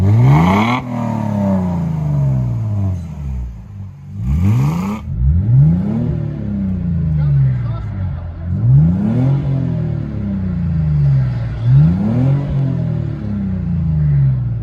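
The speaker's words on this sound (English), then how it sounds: "C230 Mercedes with Black Widow" A 2007 Mercedes C230 Sport V6 with a Black Widow dual exhaust is revved repeatedly, each loud, close rev climbing and then falling back in a regular rhythm over its idle rumble.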